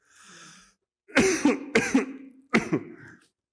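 A harsh throat clear, then a burst of several rapid, loud coughs, a short pause, and another cluster of coughs, close and alone.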